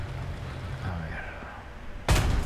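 A Tiger II P tank cannon fires in the War Thunder video game: a single loud, sudden boom near the end, following a stretch of low engine rumble and faint talking.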